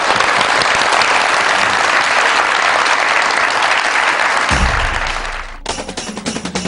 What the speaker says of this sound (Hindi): सो उनके लिए भी बहुत सारी तालियां।